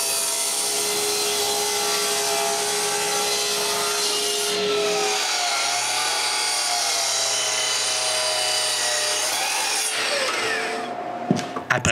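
A power saw cuts angled pieces of wood for a live-edge fireplace mantel, a loud sustained whine with a steady tone that shifts partway through before winding down near the end.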